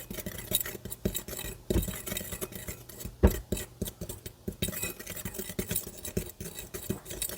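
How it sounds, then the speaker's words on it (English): A fork scrapes and clinks against a bowl while mixing salt, baking soda and spices for oatmeal cookies, with irregular close taps and stirring strokes and one sharper knock. "I'm just going to grab a fork and just make sure that's all well combined"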